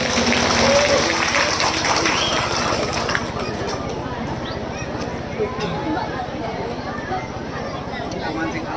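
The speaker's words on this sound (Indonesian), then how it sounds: "Beri tepuk tangan yang meriah dalam menyambut tari Saman Aceh" Applause for a Saman Aceh dance performance at an annual village religious gathering, a dense sustained wash of clapping loudest at the start and easing slightly, with crowd chatter and voices mixed in throughout.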